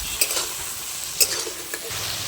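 Fried potatoes with chickpeas and tomato stirred in a hot pan: a continuous close sizzle broken by a few sharp spatula scrapes and clinks against the metal.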